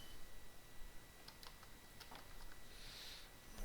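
A few soft keystrokes tap on a computer keyboard as a password is entered while joining a Windows 10 PC to a domain, quiet and close over a faint background hiss.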